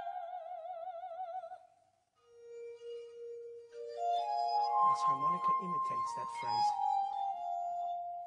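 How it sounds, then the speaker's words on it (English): An eerie glass harmonica plays in Donizetti's opera Lucia, giving sustained, ringing glassy tones that rise and swell into a fuller passage with other voices or instruments. "Donizetti used the eerie sounding glass harmonica to heighten the Gothic atmosphere."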